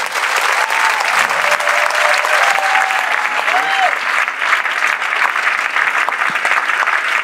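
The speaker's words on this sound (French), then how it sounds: "on peut l'applaudir" Dense, steady applause from a large audience at an evening event in Lyon fills the room and holds unbroken throughout, loud and close.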